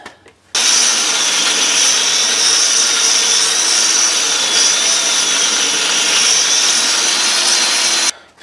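A loud, steady high-pitched whine of a power grinder grinding off ball joint rivet heads on a GM truck runs continuously for several seconds, starting and stopping abruptly, close up with no talking.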